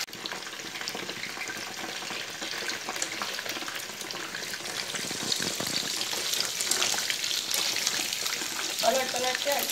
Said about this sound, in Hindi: सोयाबीन जो मैरिनेट करके रखा वो एक एक करके तल के रेडी करूंगी।